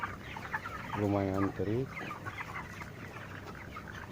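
Broiler chickens in a poultry house clucking, a dense distant flock murmur with one nearer, louder drawn-out call partway through, over steady background hum, with brief talking at the start.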